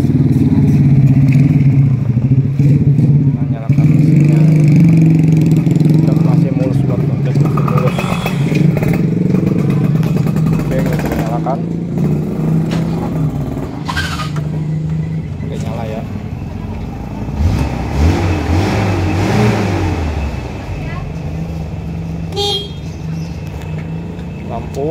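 The engine of a 1994 Toyota Kijang Grand Extra Long 1.5 starts and settles into a loud, steady idle rumble close by, with people talking over it throughout.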